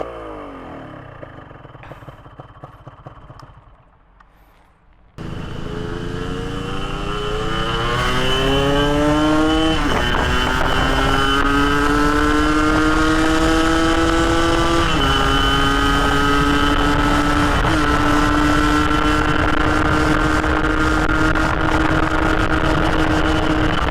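A 2007 Yamaha RX King Catalyzer two-stroke motorcycle idles briefly, then pulls hard at speed, its loud buzzing engine climbing in pitch through several gear shifts under steady wind and road noise.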